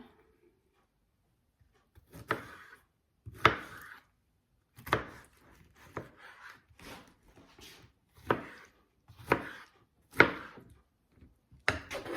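A knife chops fresh pineapple into chunks on a board, about eight sharp, evenly spaced thuds ringing out close and clear with brief pauses between strokes, no talking.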